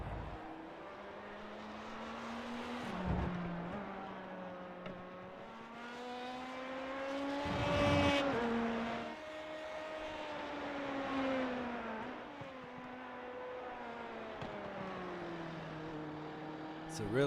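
A simulated LMP2/GTE race car engine lapping Indianapolis Motor Speedway in iRacing, droning steadily and rising and falling in pitch through gear changes and corners, under a commentator's continuous talk.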